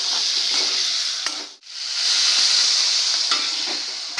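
Potatoes sizzle steadily in a frying pan while being stirred, a continuous bright hiss with a few scraping touches; the sound dips briefly near the middle before the frying noise returns at full strength.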